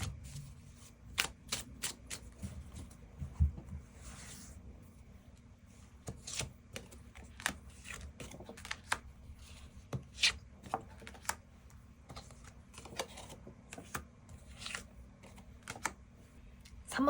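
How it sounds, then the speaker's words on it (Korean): Tarot cards are shuffled and drawn by hand at close range: a long run of crisp riffling snaps and slides, coming in bursts with short pauses, quiet and alone without talk. "카드 뽑아보도록 하겠습니다."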